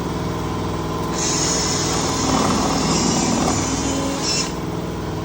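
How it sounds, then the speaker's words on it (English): Steady high-pitched whine of a power drill running continuously for several seconds, rising slightly in pitch as it bores through material. "Drill one hole, then I come to this side, I'll drill the other hole"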